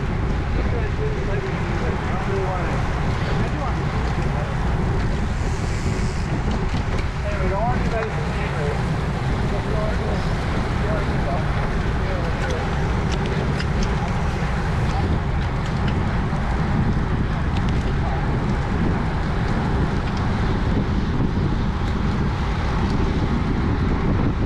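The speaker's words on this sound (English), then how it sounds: "Sheltering myself from the wind here." Wind buffeting the microphone during a Cat 4/5 spring road bike race, a constant loud roaring rush that masks everything else for the whole stretch.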